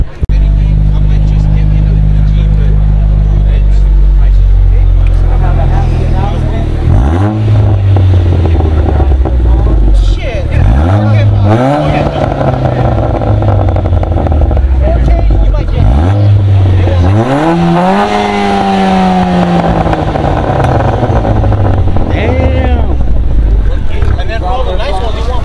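A Honda Genesis with a one-off turbo-back exhaust revs repeatedly at a car meet, loud and close, each throttle blip rising and falling in pitch over a steady idle, with people talking in the background.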